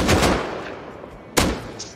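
Gunfire in the survival video game Rust: two sharp shots, one at the start and another just past the midpoint, each with a short decaying tail, loud and fairly close with no talking.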